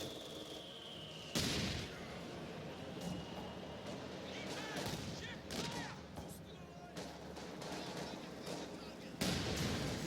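Machine gun and mortar fire rumble through a Company of Heroes 2 battle on the Semoisky Winter map, with loud bursts at the start and near the end over continuous crackling gunfire and a voice talking throughout.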